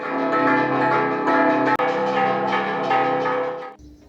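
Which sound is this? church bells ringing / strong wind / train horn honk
church bells ringing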